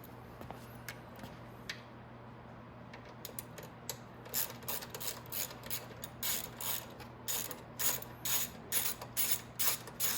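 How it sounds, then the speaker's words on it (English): An 8 mm ratchet loosening the ignition bolts on a 50cc or 150cc Maddog scooter, with rapid ratcheting clicks in close repeated bursts that grow more regular and louder toward the end. "we're going to get our number 8 millimeter ratchet"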